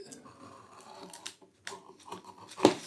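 Scissors cut through cardboard for a Gloomhaven game card box, soft close snipping and handling noises ending in one louder crisp cut.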